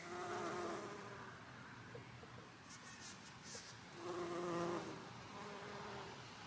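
Steady insect humming, like bees buzzing among flowers, continuous and moderately close with soft wind-like noise underneath and a swell in loudness near the end.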